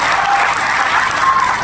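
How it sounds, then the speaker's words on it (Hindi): An audience claps for actors at a show. The applause is loud, close and continuous, a dense wash of clapping that lasts only a moment. "उसके लिए भरपूर तालियां आप लोगों के लिए बजाएं।"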